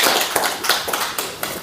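A small group gives a round of applause at a talk about a missionary history society, a close, dense clapping with a few sharper individual claps standing out.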